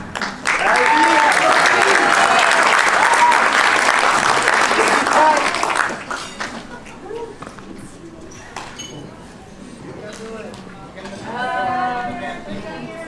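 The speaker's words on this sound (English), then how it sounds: "please round of applause for Miss V. Hyman" Guests at a Chuukese wedding reception on Guam applaud the maid of honor, with loud sustained clapping for about five seconds before it fades into scattered claps, murmuring and a voice.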